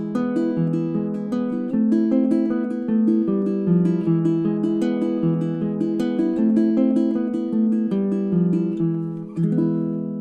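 A baritone ukulele picks out Malagueña alone and up close, steady plucked single notes and arpeggiated phrases flowing without pause for about ten seconds before ending on a final strum.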